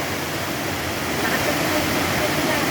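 A waterfall on a swollen river after heavy rain pours down from the mountain in a steady, loud, close rush of broadband roaring water that fills the whole stretch without a break.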